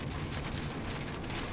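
Heavy rain pours down steadily and loudly during a severe thunderstorm in Tornado Alley, a dense continuous hiss of drops on surfaces with no voices.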